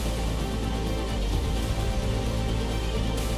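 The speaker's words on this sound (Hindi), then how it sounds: "मूसलाधार बारिश की वजह से सड़कें लबालब हो गई हैं" Heavy monsoon downpour over waterlogged city streets in Moradabad, a dense, steady roar of rain hissing without pause for the whole stretch, close and loud with no voices.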